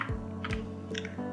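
Single keystroke of the Enter key on a computer keyboard during Excel work, a couple of soft clicks with a low hum in the background and no talking.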